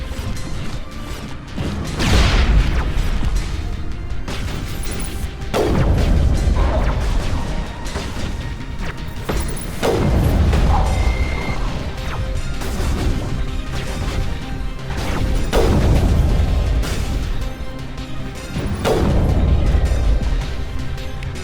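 Grenade explosions in the video game Mass Effect, five heavy booms spaced several seconds apart, each a loud crash that decays into rumble over continuous battle noise.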